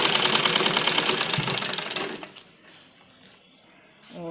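A sewing machine stitches a men's kurta in a fast, loud, even rattle that stops about halfway through, leaving quiet handling noises.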